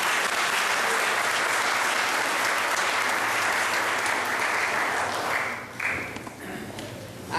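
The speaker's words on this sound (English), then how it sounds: "let's give them all another round of applause" Sustained, dense applause fills a Norristown council meeting chamber, loud and steady for several seconds before thinning and tapering off near the end.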